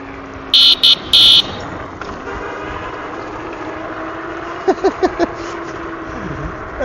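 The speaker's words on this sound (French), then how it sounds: "De partout, dans n'importe quelle rue, ça klaxonne." Several car horns honk in short, loud blasts during street celebrations of PSG's championship in Dreux, France, first a cluster of three and later a quicker run of beeps, over steady street traffic.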